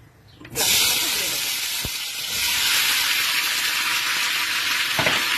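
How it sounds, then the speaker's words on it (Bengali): Food hitting hot mustard oil in a wok bursts into a loud, continuous sizzle that holds steady to the end, with a light clink partway through. "এবার কড়াইতে খানিকটা সর্ষের তেল দিয়ে দিয়েছি, এটা গরম হয়ে গেছে।"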